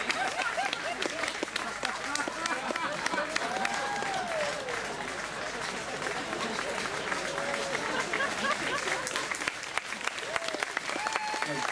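A large crowd at the Show of Hands closing set, Abbotsbury 2022, keeps up loud, continuous applause, with whistles and cheering voices rising through the clapping.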